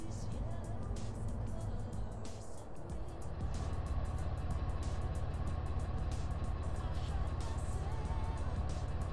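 A car being driven during a drive-by shooting mission in the mobile version of GTA San Andreas, its engine drone steady and loud throughout, with game dialogue voices and ambient noise layered over it.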